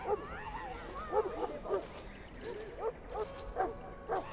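A Mabari hound barks and whimpers repeatedly in the video game Dragon Age: Origins, a run of uneven yips and woofs mixed with game sounds and some talk.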